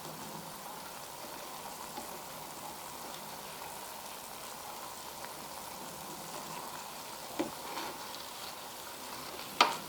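Vegan cinnamon doughnuts frying in hot oil, a steady soft sizzle and crackle running throughout at moderate level, with a few sharper pops near the end.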